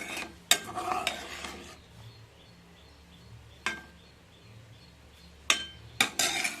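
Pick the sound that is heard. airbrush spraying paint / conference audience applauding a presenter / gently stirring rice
gently stirring rice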